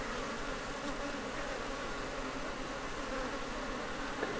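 Honeybees buzzing around an opened hive during a comb frame inspection in Ghana; a dense, continuous swarm drone, loud and close, with no voices.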